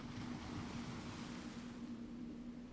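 Ocean waves wash steadily onto a beach shore, a continuous, even rush of surf with a faint low hum beneath and no voices.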